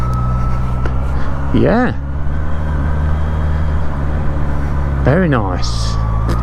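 A Honda CBR 650 R motorcycle with e-clutch pulls away in first gear, its engine a loud, steady low drone throughout, with a rider speaking briefly twice over it.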